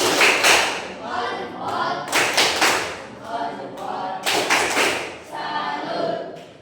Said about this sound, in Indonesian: Untuk kelompok 1 kasih tepuk salut.